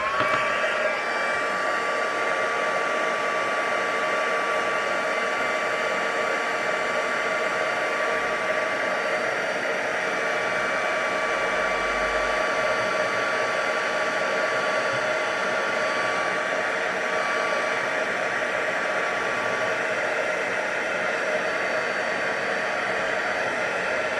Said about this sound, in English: let me take my tool, heat tool, and go over the flowers.